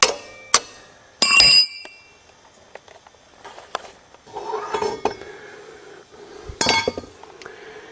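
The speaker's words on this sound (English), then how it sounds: "Now pry off the sprocket hub," Metal parts of a Suzuki Z400 ATV clink and scrape as the sprocket hub is pried off the axle splines, with sharp metallic knocks and rattles in separate bursts and quiet gaps between.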